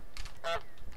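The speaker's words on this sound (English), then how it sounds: "I'll just sit here and spam honk." A cartoon goose honks in Untitled Goose Game, a single loud, nasal honk right up front over a steady game background.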